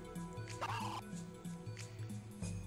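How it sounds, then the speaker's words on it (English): Chickens in the video game Xenogears squawk and cluck in quick, repeated calls over looping background music, loud and close. "You just got chickens running around in your hallways?"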